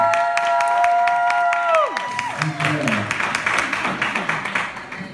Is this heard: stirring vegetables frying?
no